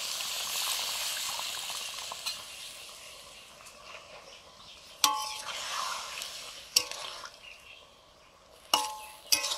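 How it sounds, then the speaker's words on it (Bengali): Water goes into a pan of simmering fish-head vegetable curry, giving a steady close hiss and bubbling, broken by a few sharp utensil clinks near the middle and end. No one speaks. "এবারে পরিমাণ মতো জল দিয়ে দিচ্ছি।"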